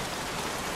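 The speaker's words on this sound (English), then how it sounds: "Goddamn rain. Soak him wet." Steady, dense rain hisses loudly and evenly in the Heavy Rain video game at a scrapyard, an unbroken wash of falling drops with no other sounds.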